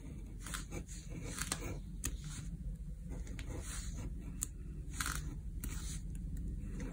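A dull craft knife scrapes and drags across a DIY printing mask in short repeated strokes, a close, fairly quiet scratching over a low steady background hum, with no talking.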